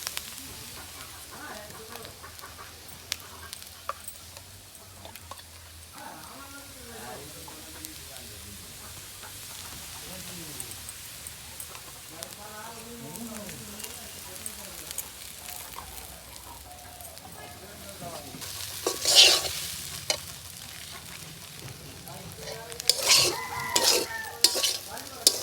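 Ghee added to sago pilaf with a steady low sizzle and repeated stirring scrapes, the frying swelling louder near the end, while a person talks quietly over it.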